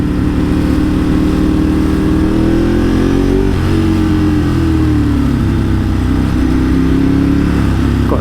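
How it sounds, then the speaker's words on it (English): A motorcycle with a loud exhaust rumbles and revs close by, the engine pitch rising and falling in a steady, powerful drone. "You know, I've got a loud exhaust."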